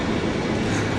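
Metro train at Sakinaka metro station, a continuous broadband rumble and rush of the train moving along the platform, steady and moderately loud with no speech.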